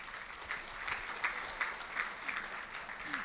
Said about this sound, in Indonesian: welcome my friend from India, kita beri tepuk tangan